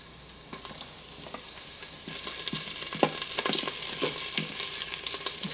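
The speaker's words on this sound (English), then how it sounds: "adding a tablespoon of vegetable oil or whatever oil you're using, and adding my ginger and garlic" Ginger, garlic and chilies fry in vegetable oil, starting as a quiet crackle and building into a steady, close sizzle with scattered pops and stirring clicks, with no voices.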